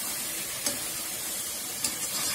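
Masala spices sautéing in a pan for mochai rice, a steady close hiss of frying with a couple of faint stirring clicks, no talk.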